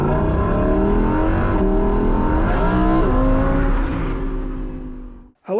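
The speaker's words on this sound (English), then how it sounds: "we're about to drive this gorgeous Lamborghini Huracan Performante" A Lamborghini Huracan Performante with a V10 engine drives a lap, its engine roaring loud and close with rising and falling revs as it accelerates and shifts, then fading away at the end.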